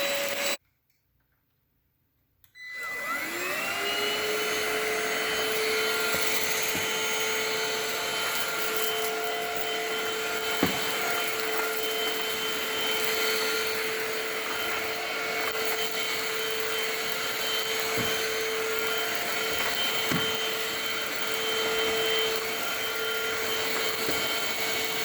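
After a brief silence, an INSE N-5 cordless vacuum cleaner switches on at its low setting and runs with a steady, even motor whine and airflow hiss, with occasional small clicks and taps as it moves over the floor.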